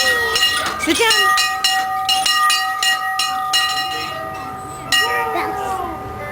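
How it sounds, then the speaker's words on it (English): A train bell rings in steady, repeated strokes, loud and close, with sustained metallic ringing tones and hiss from the rail car, while voices speak around it. "There's a bell."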